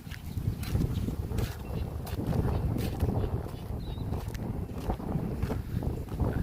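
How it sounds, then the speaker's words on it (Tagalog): Strong beach wind buffets the microphone in continuous rumbling gusts, with a constant roar throughout and no voices. "Medyo malakas ang hangin."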